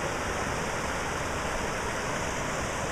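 A river stream rushes over rocks, a dense continuous watery roar filling the whole span, close and steady with no voices.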